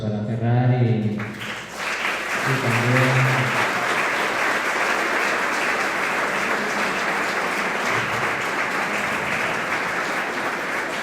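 An audience applauds to close a round-table discussion on the dream of linking two seas by train. A voice speaks briefly, then dense, even clapping fills the room and holds steady to the end.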